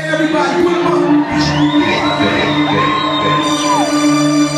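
Concert crowd at a Motionball 2013 event cheering and screaming, a loud dense wall of shouts and whoops with rising high-pitched yells, close and continuous throughout.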